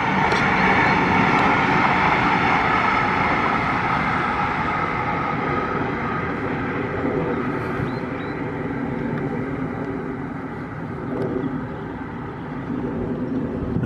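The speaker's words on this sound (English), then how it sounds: "There goes the train." A train rumbles past at a distance near a pool at a nature site, a broad low drone that swells and slowly fades, heard alone in an open outdoor setting with faint bird calls on top.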